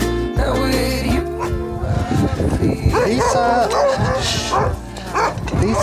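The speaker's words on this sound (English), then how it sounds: "These are the puppies of the kennel, and the youngest ones." Young kennel puppies yip, bark and whimper in quick overlapping bursts close by, with a person's voice mixed in among the noise.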